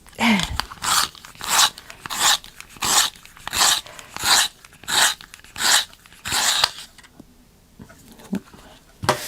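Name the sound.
pencil sharpener sharpening a pencil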